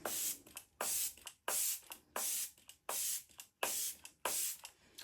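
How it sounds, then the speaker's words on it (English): Repeated short bursts of Byoma Balancing Face Mist sprayed onto a face during an evening skincare routine, about eight evenly spaced hissing pumps, close and fairly soft, with no talking. "I'm going to go in with the Byoma Balancing Face Mist"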